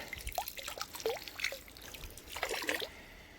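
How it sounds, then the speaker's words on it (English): Egg-yolk water is poured into a koi pond to feed fry, heard as quiet, close trickles and small splashes in uneven bursts against soft outdoor background. "now I'll just pour this egg water all around the pond"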